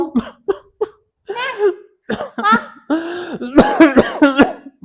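Several sharp, harsh coughs burst out in quick succession, close and loud, mixed with strained vocal sounds and a few words between them.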